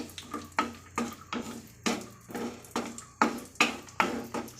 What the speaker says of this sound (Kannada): ದ್ರಾಕ್ಷಿ ಮತ್ತು ಗೋಡಂಬಿ ಫ್ರೈ ಮಾಡ್ಕೊಳ್ಳಿಕ್ಕೆ ಸ್ವಲ್ಪ ತುಪ್ಪದಲ್ಲಿ ಫ್ರೈ ಮಾಡ್ಕೊಳ್ಳೋಣ